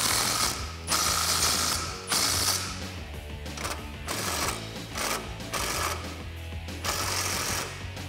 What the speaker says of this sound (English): So now we can tighten all of these down with a 13 millimeter wrench and a 13 millimeter socket.